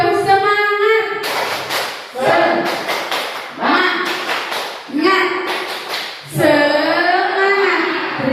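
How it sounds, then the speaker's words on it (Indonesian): An audience at an Indonesian good-practice sharing session doing a rhythmic spirit clap: several loud bursts of patterned group clapping alternate with a leader's voice calling out between rounds. "Tepuk semangat."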